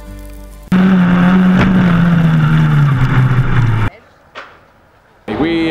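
A Formula Ford race car engine, loud and close, revving hard in a sustained, slowly falling drone for about three seconds, then cutting out to quieter noise before another burst of engine sound at the end.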